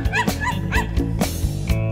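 Young children join a sing-along to imitate dogs, letting out a rhythmic run of short yipping barks, about five bursts in two seconds over steady music.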